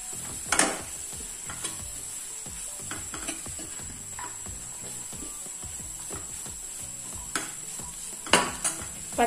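Fennel seeds stirred in a hot pan for a Kerala-style chicken roast: steady close sizzle with repeated spoon scrapes and sharp metallic clinks against the pan, no voices.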